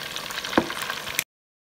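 Steady crackling sizzle of croaker fish deep frying in hot oil, close and continuous, with a couple of sharper pops.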